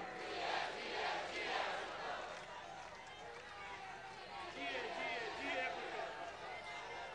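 A large political rally crowd at a Pakistan Peoples Party foundation day event, many voices shouting and chanting together in loud rhythmic surges, dense and sustained throughout.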